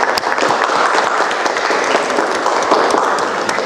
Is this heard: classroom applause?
yes